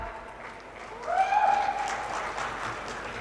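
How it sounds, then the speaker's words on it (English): Audience applause at an architecture and interiors expo panel, a burst of clapping swelling after a quiet start and continuing steadily at moderate loudness. "A big round of applause"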